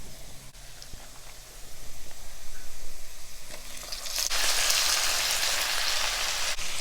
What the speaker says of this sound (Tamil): கத்திரிக்காவை போட்டுட்டு கொஞ்சம் வதக்கிடலாம் ஆயிலில்.